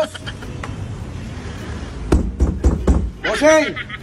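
Several loud knocks or bangs on a home's only door come in a quick, uneven burst near the end, after a stretch of background noise, followed by a voice calling out.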